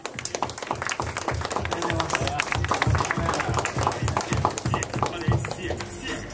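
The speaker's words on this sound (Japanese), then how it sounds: "大きな拍手" Audience applause at a DVD release event, dense rhythmic clapping from a crowd, lively and sustained, with a voice speaking over it.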